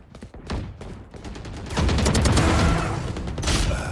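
Dragon Vandal rifle fire in Valorant: a few scattered single shots at first, then a loud, dense run of rapid automatic bursts that keeps going to the end, with no voices.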